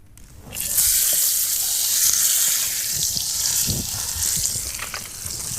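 A piece of pork laid fat side down in a hot pan sizzles loudly and steadily, a bright continuous hiss close up with faint knocks underneath.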